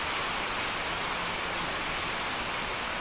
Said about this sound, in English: We're getting the rains helping us out tonight.